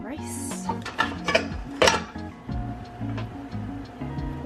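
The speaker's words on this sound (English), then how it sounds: "Now let's scoop our rice." A utensil scoops rice onto a plate that already holds broccoli, with a series of close clinks and taps of metal on dishware, some sharper strikes in the middle.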